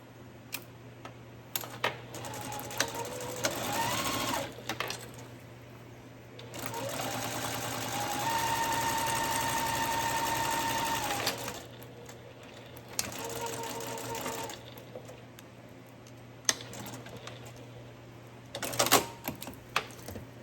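Sewing machine stitching fabric liner pieces for a Longaberger road trip basket, running in several bursts of steady whirring separated by pauses, close and clear with faint handling noises between runs.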